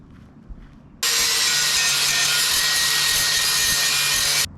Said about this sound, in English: grind myself a clean spot on the tank to hook up my negative to